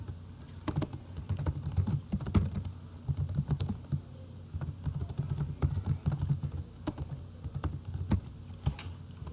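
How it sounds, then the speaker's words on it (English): Quick bursts of key presses on a computer keyboard as a web address is typed in, close and clear, in uneven runs with short pauses and no talking. "since I know the address, I'm just going to type it in."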